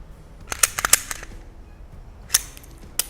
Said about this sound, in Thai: จบปลดแมกกาซีนเคลียร์ปืน